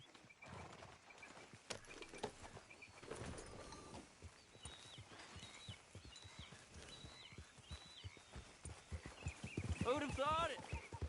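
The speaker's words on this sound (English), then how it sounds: "Grab your horse and let's go." Horse hooves clip-clopping at a steady walking rhythm in Red Dead Redemption 2, moderately close, with a voice speaking over the steps and a few chirping calls in the background.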